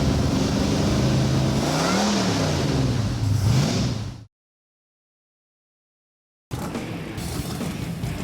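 The engine of a 1929 Ford Roadster rat rod runs with a rough, throaty idle and some revving, then cuts out to silence before rumbling again.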